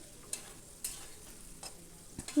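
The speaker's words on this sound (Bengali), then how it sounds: "হলুদটা দিয়ে এবার একটু নাড়াচাড়া করে আলুটাকে ভেজে নিচ্ছি" Potatoes with turmeric being stirred and fried in a pan, a quiet soft sizzle broken by a few separate scraping strokes of the spoon spaced over a couple of seconds.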